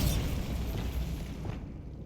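Bombarda spell explosion in the video game Hogwarts Legacy: one loud, close, booming blast with a deep rumbling body that fades over about two seconds.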